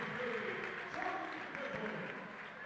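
Crowd at a high school basketball game between St. Joseph Westchester and Belleville Althoff cheers and applauds steadily, a dense roar of voices filling the gym for the whole moment.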